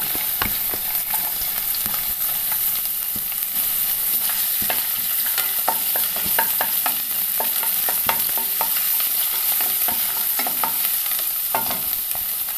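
Garlic and ginger sizzle steadily in hot coconut oil in a pan for a tomato chicken curry, with frequent sharp scrapes and clicks of a spoon stirring throughout, close and continuous with no talking.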